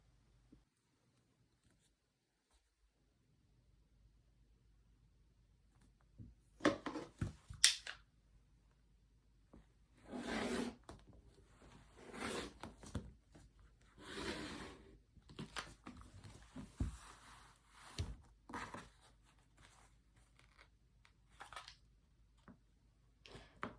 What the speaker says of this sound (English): this rotary blade is not the sharpest, but we're rolling with it